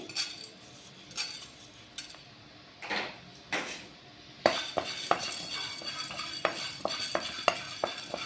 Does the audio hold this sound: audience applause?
no